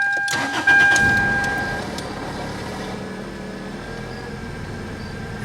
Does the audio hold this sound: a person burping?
no